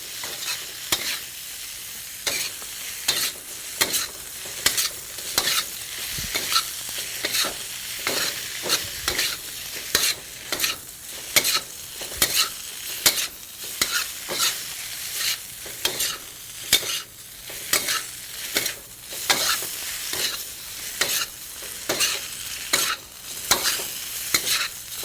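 A vegetarian curd scramble with spices fries in a pan. Loud, rhythmic scraping stirs repeat quickly for the whole stretch over a constant sizzle, with no voices.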